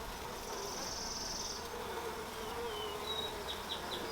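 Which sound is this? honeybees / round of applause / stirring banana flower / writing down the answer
honeybees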